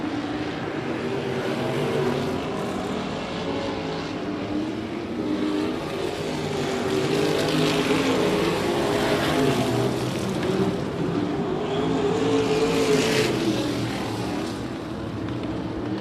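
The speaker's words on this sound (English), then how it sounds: "8 down, 7 to go here in your feature for your Texas Wing Modifieds" Texas Wing Modified race cars roar around Big O Speedway in a feature race, engines droning and swelling continuously as the pack passes, loud with some distance.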